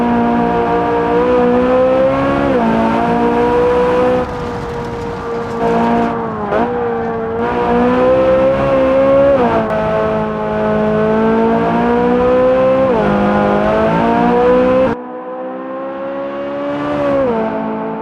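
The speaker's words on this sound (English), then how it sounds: "here's a little clip of me just racing this Z06 on the track" A Z06 mod car racing on a track in BeamNG.drive, its engine loud and close with a sustained high whine that climbs and drops sharply at each gear shift and corner, no voices over it.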